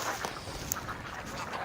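A flock of about fifty or sixty ducks on a homestead quacking, a busy layered chorus of calls close by with a sharp higher squawk mid-way.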